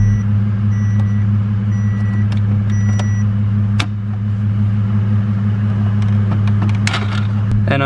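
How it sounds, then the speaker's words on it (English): A Ford Falcon running a straight-pipe turbo setup idles close by, giving a loud, steady, deep low rumble throughout, with a few faint clicks and taps in the background and no talk. "just while the car's running at the moment"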